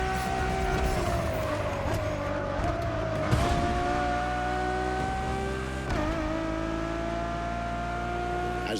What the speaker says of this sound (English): Ferrari Enzo, fourth in the supercar bloodline